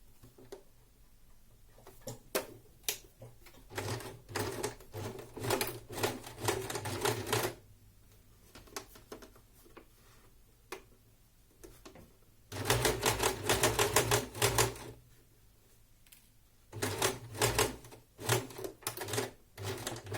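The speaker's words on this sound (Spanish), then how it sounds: "alineamos bien los cantos y cosemos hasta aquí" A sewing machine stitching a kimono seam runs in several rapid clattering bursts, some a few seconds long, separated by quiet pauses, close and distinct.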